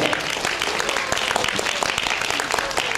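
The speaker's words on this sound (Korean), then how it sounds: "여러분, 큰 축하의 박수를 담아 주십시오." A crowd at a national brand award ceremony breaks into congratulatory applause, a full and continuous clapping with crisp individual claps standing out, sustained throughout at a steady level.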